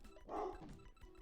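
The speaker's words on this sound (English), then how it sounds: "But that's my dog Luke." A dog barks once, fairly close but faint, and its single bark fades quickly into quiet background.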